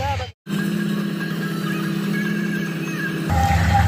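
A combine harvester cutting wheat in a village field gives a loud, steady engine drone that cuts out briefly near the start and then swells into a heavier rumble at the end.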